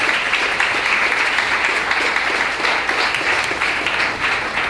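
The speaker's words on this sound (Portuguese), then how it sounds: "Vamos aplaudir a palavra de Deus." A church congregation at a sermon applauds together, a dense, steady wash of many hands clapping that stays even and fairly loud throughout, with no voices over it.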